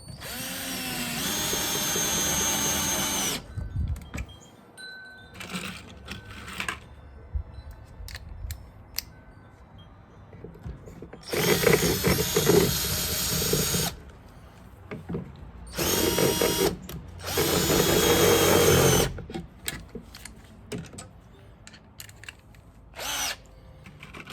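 A power drill tightens bolts while a Hoselink hose reel is mounted: four loud, close whirring bursts of a few seconds each, separated by quieter gaps with small clicks and handling noises, and no voices.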